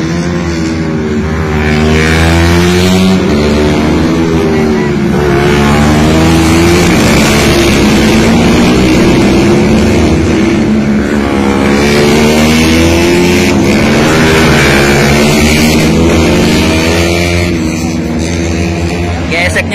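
Racing motorcycles including a tuned stock-engine Suzuki GSX 150 R against larger bikes such as a KTM RC250 and a CBR at the Sentul circuit, loud sustained engine howls with rising and falling revs close by, continuous throughout.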